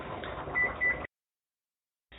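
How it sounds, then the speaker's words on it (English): A kitchen oven timer beeps twice in quick succession for cod baking, fairly close over a light room hum, then cuts to silence. "that's the timer on our cod"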